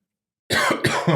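Two harsh coughs come in quick succession after a moment of silence, loud and close.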